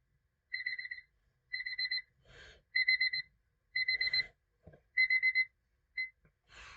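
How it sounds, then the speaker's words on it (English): A phone alarm beeps in six short repeating bursts of bright electronic tones, close and clear, with soft breaths and rustles in the gaps. "I'm having trouble with my alarm on the phone."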